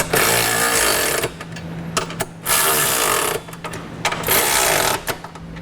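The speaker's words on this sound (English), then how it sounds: "Now with all our hardware in place, we'll go ahead and tighten it down." A power tool tightens Curt trailer hitch hardware on a 2015 Hyundai Santa Fe in four loud, close bursts of rattling, hammering whir, each about a second long, with brief pauses between them.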